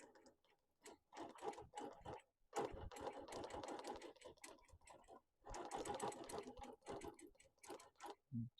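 A sewing machine stitching free-motion quilted lettering, bursts of rapid close mechanical needle chatter broken by short pauses while the hands reposition.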